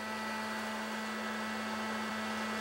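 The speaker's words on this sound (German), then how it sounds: "Er röstet mit zwei selbstgebauten Maschinen." A small homemade coffee roasting machine runs with a steady electric hum and a constant tonal whine over a wash of airy mechanical noise, even and unchanging from start to finish.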